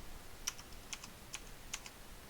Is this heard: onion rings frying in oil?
no